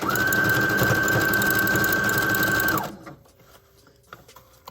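Sewing machine stitching hair wefts onto a dome wig cap, running loud and steady for nearly three seconds before stopping abruptly, leaving faint handling noises afterward.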